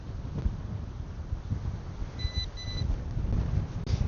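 Strong wind batters a DJI Mini Mic in continuous low, gusty rumbles on the coast at Steinvike, with a faint electronic beep briefly in the middle.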